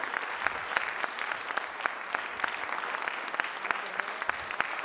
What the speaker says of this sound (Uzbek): Davomiy qarsak bo'lsin.